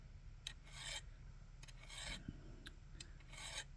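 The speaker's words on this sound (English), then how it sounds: "So I'm constantly having to sharpen it and keep her" A serrated knife being sharpened along its serrations gives several short, quiet rasping strokes in irregular bursts, heard close up with no talking.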